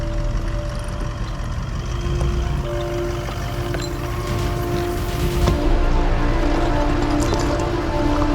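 A 4x4 vehicle descending Quarry Hill in Savuti, Chobe National Park, Botswana, a steady engine hum with creaks and bumps from the rough track, close and continuous.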